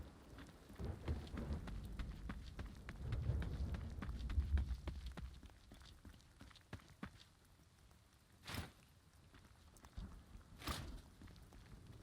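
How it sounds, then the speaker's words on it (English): Player footsteps in the video game The Cycle: Frontier, a run of quick soft steps under a steady wash of rain and distant storm rumble, fading to a few scattered sharp sounds later. "So you hear my footsteps"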